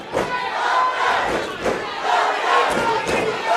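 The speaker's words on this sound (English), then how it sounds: "The Worcester crowd just drowning him out." A wrestling crowd at White Eagle in Worcester roars and cheers loudly and continuously, with swelling waves of yelling and chanting that fill the hall for the full stretch.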